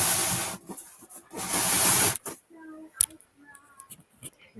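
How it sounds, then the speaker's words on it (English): Water is sprayed into an enclosure in two bursts of close, loud hissing mist, followed by quieter clicks and faint speech. "I'll give it a little spray."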